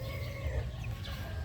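A gray mother hen brooding among her chicks gives soft, close clucks over a constant murmur of chick peeping and farmyard noise.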